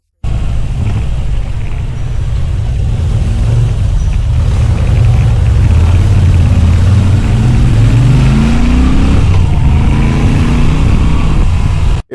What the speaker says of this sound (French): Quand on roule vite à moto, il y a la réduction du bruit.